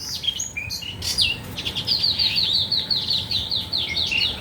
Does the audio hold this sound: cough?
no